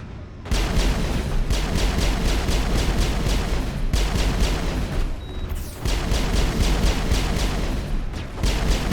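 Sustained rapid gunfire rattles loud and close in a Mass Effect battle, with dense overlapping shots broken by two short pauses.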